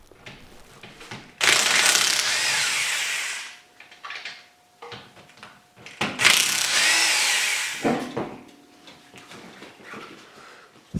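Two long bursts of a power tool, likely an impact driver, loosen bolts on the rear bumper of an Outlander XMR 850 ATV, each run a few seconds, close and loud, with softer clanks between them.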